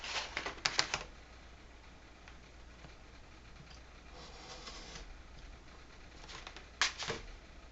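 Scissors snip through a clutch lining pattern in a few quick bursts of close cutting near the start and again near the end, with a quiet stretch of faint handling between them.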